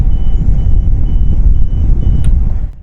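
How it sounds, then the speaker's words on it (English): A Tecnam P2006T stall horn tested during the pre-flight check sounds as a thin, evenly spaced series of beeps over a loud, constant low engine rumble, close by. "we are going to test our stall horn. So we're going to move our tap up and we should hear a beeping noise."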